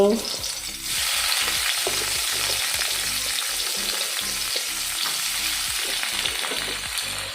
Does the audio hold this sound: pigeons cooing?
no